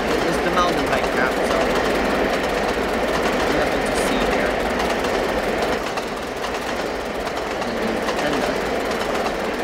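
Steam locomotives, a GS-4 and a CN U2g Northern, racing in the Trainz simulator, making a steady rumbling rail roar with faint clicking that continues without a break, while someone talks over it.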